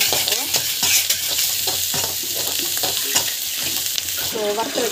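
Onion-free sauté of turmeric and asafoetida in a pan, a steady close sizzle with repeated scraping strokes of a spatula stirring throughout, no talking.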